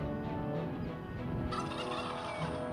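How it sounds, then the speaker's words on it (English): Wild turkey gobbling in open prairie woodland of the Black Hills, a steady run of rough, rattling calls at moderate distance over a constant outdoor background. "A prairie and open woodland where turkeys now freely roam."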